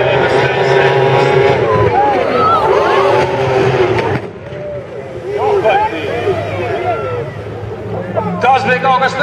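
Formula 2 racing powerboats roar loudly on water at a rally event, engines rising and falling in pitch with a brief dip midway, under a crowd hubbub and commentary.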